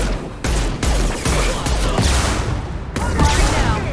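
Sustained gunfire in Mass Effect Legendary Edition, a dense run of rapid shots and bursts with sharp onsets, loud and close, over battle noise with faint voices.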